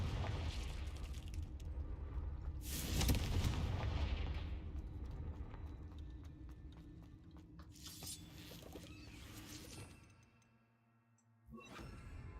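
A Confringo blasting spell goes off in a Harry Potter video game, a loud booming explosion that swells and slowly decays, followed by a second burst after a brief lull.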